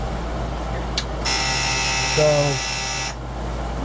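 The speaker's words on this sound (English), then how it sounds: "When I do, it's going to alarm." Engine alarm buzzer sounding as the engine is shut off with the key, a steady harmonic tone of about two seconds over low idle hum, briefly joined by a falling tonal sweep as the engine winds down.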